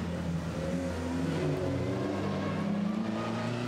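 A four-cylinder, front-engined Maserati Birdcage race car of 2 or 3 litres accelerates at the Chateau Impney hill climb, its engine note rising steadily and loudly through the gears with no voices heard.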